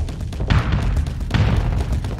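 Missile impacts in the space combat game Starsector, two heavy booming thuds about a second apart over a constant low rumble of game sound, with no voices.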